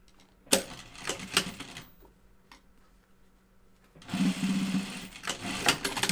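A sewing machine stitches fabric face masks in short bursts, a fast rhythmic clatter that pauses and then resumes louder and steady, close by.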